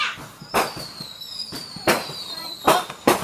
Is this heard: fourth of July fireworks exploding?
yes